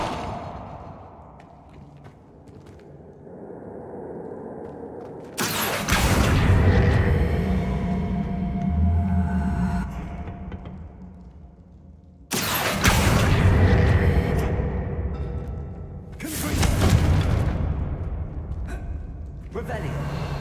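Confringo blasting-spell explosions in the video game Hogwarts Legacy: three loud, booming blasts a few seconds apart, each with a long rumbling tail, with a voice talking in between.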